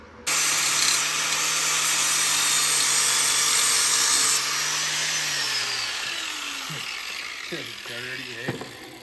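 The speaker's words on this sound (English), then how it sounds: "I'm just gonna grind that down a bit so it hits in other spots" A grinder works down a metal part on a coil-over conversion for a race car, a loud, bright continuous whine that runs for several seconds, then fades as a voice speaks over the tail end.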